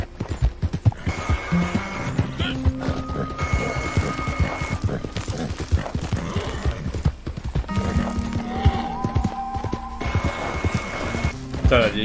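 Horse hooves clip-clop steadily at a run in Red Dead Redemption 2 Online, an old, low-stamina mount ridden across open country, with a horse whinny and music underneath and someone talking over the hoofbeats.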